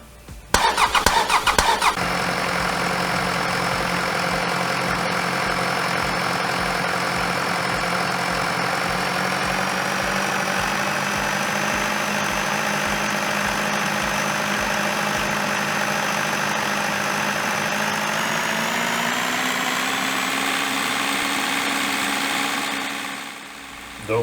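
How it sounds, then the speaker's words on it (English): An engine simulator triggers an auto start on a CANplus CP1000 controller, with a brief cranking burst followed by a steady engine-like drone that holds at 1800 RPM, rises slightly in pitch, then cuts off. "We will use the engine simulator to trigger the auto start."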